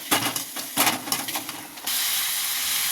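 Potatoes being sautéed in a pan for a simple potato fry, giving a loud, close hiss of steam and sizzling. Scraping and clattering bursts come first, then the hiss settles into a steady, even rush.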